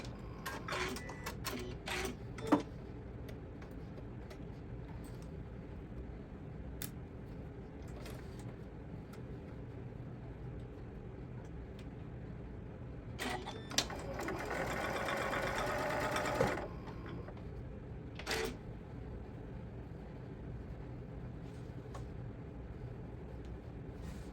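Sewing machine stitching through the layers of a sling pouch, a steady mechanical whir with clicking running throughout and a louder, denser burst of stitching midway, heard alone at close range.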